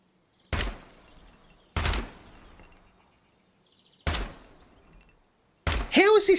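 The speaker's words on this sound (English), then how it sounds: "Time for the Chinese assault rifle." A Chinese assault rifle in Gunsmith Simulator fires four sharp single shots spaced a second or more apart, each with a short decaying echo, the last followed by a ringing metallic tone.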